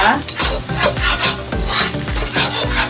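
Aromatics sautéing and being stirred in a pan for chili crab, a steady loud sizzle with rhythmic scraping strokes of a utensil repeating about twice a second, close up with no talking.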